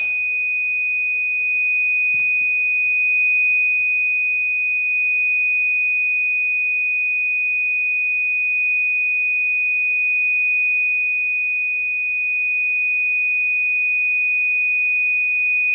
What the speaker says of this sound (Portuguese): o sinalizador que indica quando a bomba de incêndio foi acionada